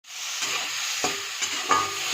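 Spice paste frying in oil for an egg curry, with a steady sizzle broken by a few stirring scrapes of a spoon in the pan, close up and with no talking.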